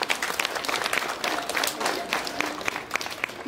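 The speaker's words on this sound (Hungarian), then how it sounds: "Még egy tapsot kérünk." Audience clapping at a school graduation ceremony, lively uneven applause from a crowd heard close, with voices talking under it.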